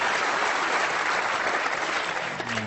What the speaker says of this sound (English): the Ali Carter camp giving him a terrific round of applause for that shot